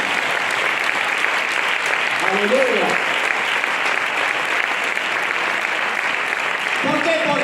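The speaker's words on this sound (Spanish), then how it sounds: "Si lo crees, dale un aplauso fuerte." Sustained loud applause from a large church congregation, steady throughout, with a voice briefly shouting over the clapping.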